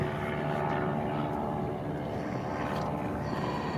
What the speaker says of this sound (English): Look at that fucking plane.